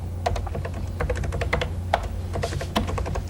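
Rapid, uneven keystrokes clack on a computer keyboard as personal information management software is demonstrated, close and crisp with no talk over them.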